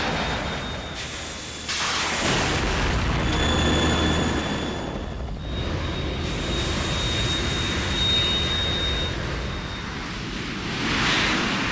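Harrier jet aircraft from the Metal Gear Solid video game, a steady, loud broadband jet roar with a thin whine running through it, swelling and easing over about twelve seconds with no talk.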